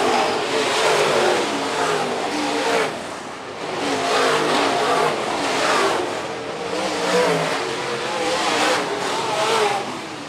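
Modified race cars roar around a dirt oval at Phillips County Raceway, a dense, continuous engine drone that swells and fades as the pack passes through the corners.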